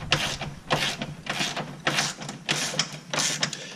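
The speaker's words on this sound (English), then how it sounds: "We'll wrench it down." Wrench ratcheting down the spare tire mount on a Corvette C4, a series of about six quick, close, loud bursts of clicking at a steady rhythm with no talk over it.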